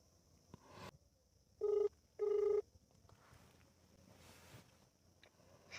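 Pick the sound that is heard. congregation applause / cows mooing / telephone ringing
telephone ringing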